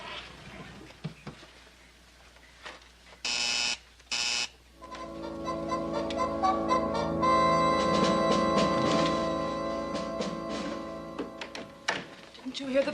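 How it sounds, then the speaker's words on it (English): A telephone-style buzzer sounds in a home in a 1961 film, two short loud bursts, followed by a sustained mellow musical tone and background music. "Didn't you hear the buzzer?"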